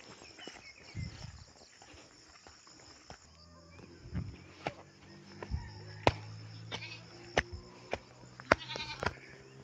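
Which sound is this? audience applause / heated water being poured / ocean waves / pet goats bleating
pet goats bleating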